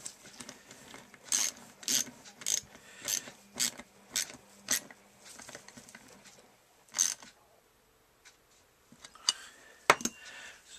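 A nylon lock nut being tightened on a Honda CB200 brake hub, a run of roughly evenly spaced metallic ratcheting clicks, close and fairly faint, followed by a pause and a few more scattered taps.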